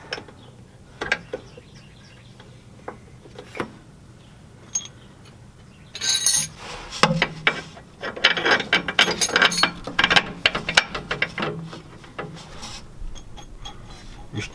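A hand ratchet tightens bolts while a Firestone Ride Rite air spring goes onto a 2013 Chevy Silverado, with scattered single clicks first and then a busy run of rapid ratcheting clicks close by, without talk.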